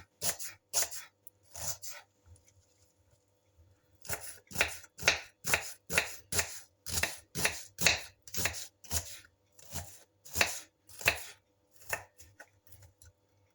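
Quick knife chops finely slicing a small onion on a cutting board, a brief run then a long steady rhythmic series of crisp close taps, with short pauses.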